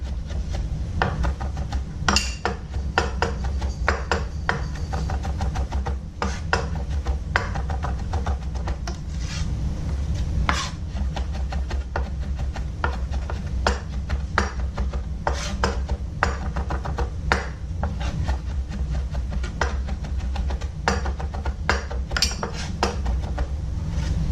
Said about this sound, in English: Chop up the garlic fine.